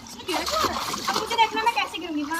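Water splashes and sloshes in a bathtub used as a play pool, several quick uneven splashes close by while someone talks over them.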